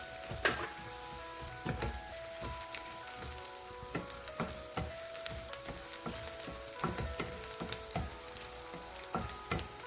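Onions and green chillies softening in a pan for ivy gourd stir-fry give a steady close sizzle with repeated sharp clinks and scrapes of a spoon, no voices.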